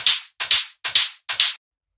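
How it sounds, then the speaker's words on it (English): Two layered hi-hats from a drum rack in a raw industrial techno pattern: four evenly spaced, bright, hissy bursts, each with a doubled attack, loud and up close, with a faint low thump beneath and no voices. "this drum rack, which has 2 hi-hats in it"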